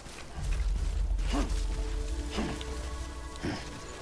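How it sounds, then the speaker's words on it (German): Rain falls steadily in the video game Death Stranding, a soft continuous hiss on surfaces with a low background rumble and a few brief swooping tones, with no voices. "Hier lässt der Regen jetzt nach."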